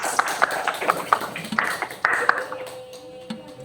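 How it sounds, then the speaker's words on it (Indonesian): Scattered hand clapping from a classroom audience applauding a student presenter, a short uneven patter of claps that thins out toward the end. "aplaus untuk Putri"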